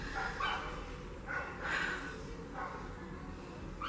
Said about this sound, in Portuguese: E eu falo baixo para os cachorros poderem falar alto.